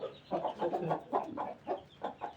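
An Aseel-type game rooster clucks repeatedly in short, uneven bursts, close by and fairly clear against a quiet background.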